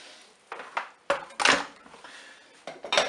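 Cookeo extra crisp air-fryer lid being fitted onto the multicooker, a handful of sharp plastic-and-metal clunks and clicks spread over a few seconds, close and fairly loud with no talk.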